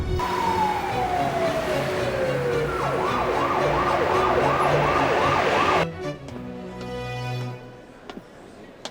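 An ambulance siren wails loudly, first a falling tone then a rapid yelp, before cutting off abruptly; quieter background noise and a few knocks follow.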